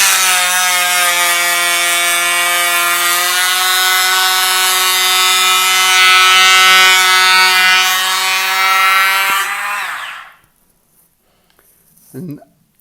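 A Bosch GHO 12V-20 cordless planer shaves a wide piece of timber at about 0.8 mm depth, giving a loud, close, steady whining buzz for around ten seconds before it spins down. Brief quiet follows, with one small knock near the end.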